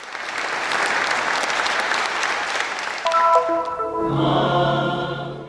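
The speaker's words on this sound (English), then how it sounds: "The Rhodes audience greeted them with great applause and signs of solidarity" Concert audience in Rhodes applauding performers warmly, a sustained wash of dense clapping, joined near the end by a sustained musical chord.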